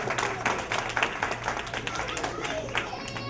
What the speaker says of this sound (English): So a big round of applause once again, guys, for everybody who arranged this.